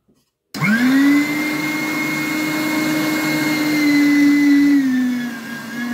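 A SilverCrest electric mincer from Lidl starts abruptly and runs with a loud, steady motor whine while mincing bread, its pitch dipping slightly near the end.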